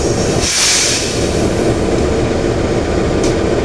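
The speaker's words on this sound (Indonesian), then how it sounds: "Persiapan berangkat untuk kereta api Cikuray tujuan Pasar Senen." The Cikuray stainless steel economy train, bound for Pasar Senen, departs with a loud, steady rolling rumble and a couple of short bursts of hiss.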